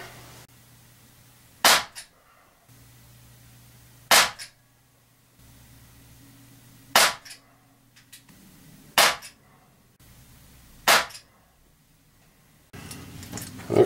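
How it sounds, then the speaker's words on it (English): Five sharp shots from a Crosman 357 CO2 pellet revolver fitted with a red dot sight, fired one at a time at uneven intervals of about two seconds, each a loud crisp crack over a quiet background. "And now we're going to try 5 more shots with using the red dot sight."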